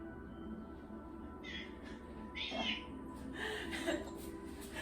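A cat meows faintly a few times at home, with drawn-out calls over a steady background hum and no speech.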